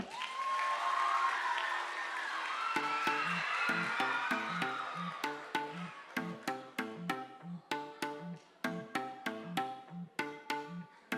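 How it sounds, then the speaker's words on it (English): Applause and cheering from an audience at a school multicultural celebration saluting the India segment, a diffuse crowd wash that gives way after a few seconds to a Hindi song with a steady rhythmic beat. "Please give a round of applause for India."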